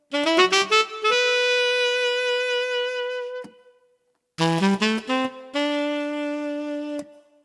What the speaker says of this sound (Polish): Podczas grania słychać nie tylko saksofon, ale i klapy saksofonu.